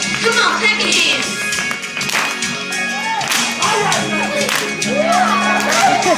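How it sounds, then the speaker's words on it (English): Church congregation standing and clapping hands in praise, a dense crowd of claps mixed with shouts, cheers and music, loud and close, with voices calling out over it. "So let's get up and stand to our feet and praise the Lord. Come on, clap your hands."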